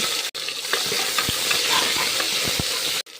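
Mustard seeds, urad dal, chana dal, dried red chillies, curry leaves and onion crackle and sizzle steadily in hot oil for sambar, with scattered low thumps of stirring and brief pauses at the start and end.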